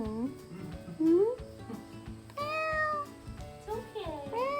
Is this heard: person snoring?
no